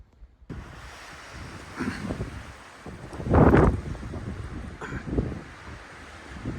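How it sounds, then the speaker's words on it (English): Steady wind buffeting the microphone in a desert canyon near Gravel Canyon, roaring louder in gusts, with no voices. "it's gotten rather windy"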